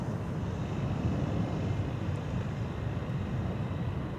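An Air Baltic airliner bound for Vilnius taxis at Amsterdam Schiphol Airport, its steady engine rumble and broadband roar holding constant at a distance with no other sounds.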